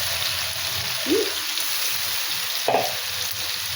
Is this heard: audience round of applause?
no